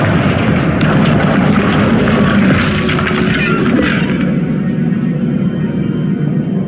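A Confringo fire spell explodes in a video game with a loud, close, booming blast and a crackling rumble that fades over several seconds.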